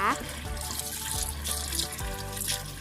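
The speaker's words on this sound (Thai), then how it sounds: "นี่มันฝรั่งของเรานะคะ ล้างเพื่อเอายางออกนะคะ เราจะล้างสักประมาณ3น้ำนะคะ" Cut potatoes are washed under running tap water, a steady close splashing and trickling, while someone talks over it throughout.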